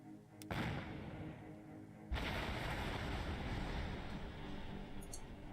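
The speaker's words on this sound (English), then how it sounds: "Let's tweak our angle just slightly and do a salvo shot." Naval artillery salvo from the warship game Battle Fleet 2: two heavy, booming blasts, the second louder, each followed by a long rumbling roll that stays steady to the end, with a faint high ping near the close.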